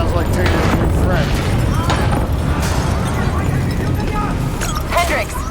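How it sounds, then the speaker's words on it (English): Rumbling explosions and debris crash through a dense, continuous roar, with shouted voices cutting in over the chaotic action of the game Call of Duty: Black Ops 3. "we have multiple explosions across the facility"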